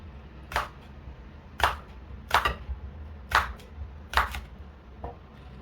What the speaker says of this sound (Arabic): نقطع شويه خيار يبقوا مع المخلل كده مقطعين